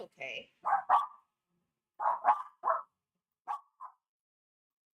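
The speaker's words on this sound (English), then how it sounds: "I apologize for my barky dogs" A few dogs indoors give short, sharp barks in two quick bursts, fairly close, with a brief spoken word at the start.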